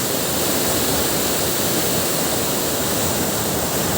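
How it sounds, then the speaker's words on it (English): The strong, fast current at Datanla Waterfall in Da Lat, Vietnam pours in a loud, close, steady roar of rushing white water, unbroken and without any voices. "the current of the water is so strong"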